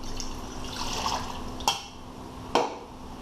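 Water poured into a vessel for a tempura dipping sauce, a continuous liquid splashing and trickling with two sharp knocks of the container partway through, close and fairly clear with no talk.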